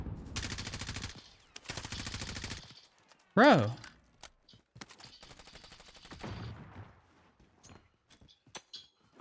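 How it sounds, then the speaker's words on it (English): Rapid automatic gunfire fills Warzone, the video game, in dense bursts as a player shoots through a wall. Scattered single shots follow, along with a sharp loud bang, and a voice speaks briefly. "he's trying to like shoot through the wall. He's trying to wall bang this"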